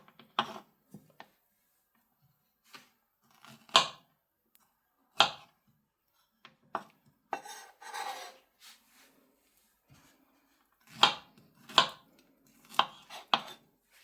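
Knife cutting a soft eggless pancake into small pieces, a series of short, sharp taps and scrapes on a hard surface, irregularly spaced and fairly close, with no talking.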